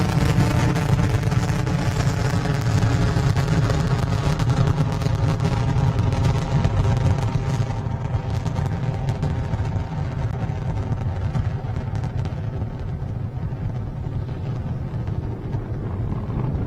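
SpaceX Falcon 9 rocket carrying Intelsat 35e during first-stage ascent, its engines giving a continuous, loud, broadband roar with heavy low-end rumble and crackle that stays steady throughout, with no voices.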